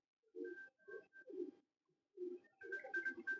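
Prized pet racing pigeons coo in a series of soft, rhythmic calls close by, with brief pauses between phrases and no talking.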